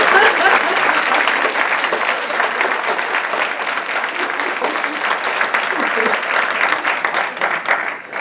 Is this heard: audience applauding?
yes